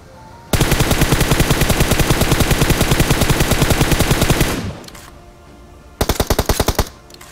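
Rapid automatic gunfire in the mobile battle royale game PUBG Mobile: a loud, sustained burst of several seconds that cuts off, then after a short lull a second, shorter burst of quick shots.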